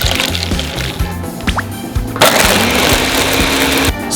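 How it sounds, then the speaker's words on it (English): White chocolate syrup from a whole bottle poured into a blender with ice, milk and sugar, a steady close pouring wash lasting a couple of seconds after faint clatter and knocks, then stopping. "Pour in the whole bottle of white chocolate syrup."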